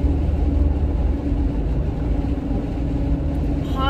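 Car driving in snow, heard from inside the cabin as a steady, loud low road and engine rumble that continues without a break.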